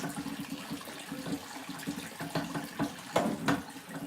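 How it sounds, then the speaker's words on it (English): A kitchen tap runs steadily while a pan is washed out, splashing water with a few clanks and knocks over the hiss, fairly close and with no voices. "Sorry if you hear like water running. I'm trying to like wash this pan out so I can make spaghetti."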